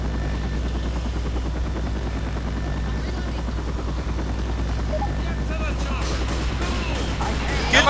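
Rescue helicopter in the video game Left 4 Dead, a steady loud rotor drone arriving amid gunfire and game noise throughout, with players talking over it.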